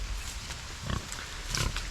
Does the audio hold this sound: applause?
no